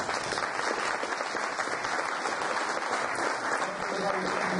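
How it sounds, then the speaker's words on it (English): An audience at an education technology academy keynote claps steadily to welcome the speaker, a continuous, even roar of many hands held at a moderate level throughout. "Let's keep that applause going for our hosts"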